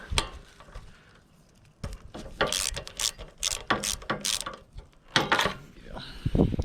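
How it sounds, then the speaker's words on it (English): A ratchet wrench loosens the spark plug on an old John Deere lawnmower that has sat unused for years. Close, rapid clicking comes in several bursts, with short pauses between strokes. "let's try and pull this plug out"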